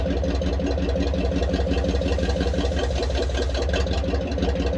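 The engine of a Dodge Power Wagon with a manual four-speed runs steadily at a low idle-like throb, close and continuous, with no talk. The clutch engagement is not distinct.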